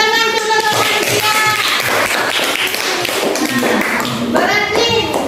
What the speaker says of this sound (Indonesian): Ya, tepuk tangan untuk manusia.